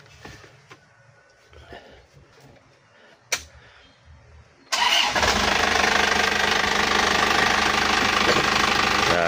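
Isuzu Elf NLR 55 truck diesel engine with a recent overhaul cranks and catches after a few quiet clicks and a brief burst, then settles into a loud, steady close-up knocking idle.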